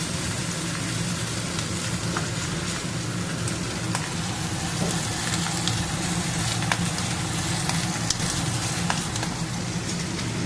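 Hilsa fish tail frying in hot oil, a dense, even crackling sizzle that stays loud and unbroken throughout, with small pops scattered over the hiss.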